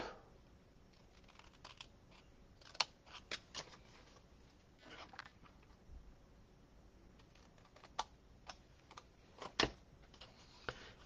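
Scissors snip through a folded paper card in a quiet room. Sparse, close, crisp cuts arrive in irregular clusters with pauses between them.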